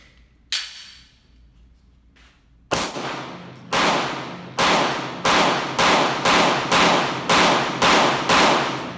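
A CZ P-10c pistol fires at a shooting range, one sharp shot followed by a regular string of about ten loud, close reports with ringing decay between them, and no talking.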